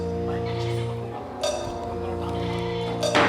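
A goat bleats in short wavering calls over a sustained musical drone in a dramatized village scene, with a brief voice and rustle breaking in near the end.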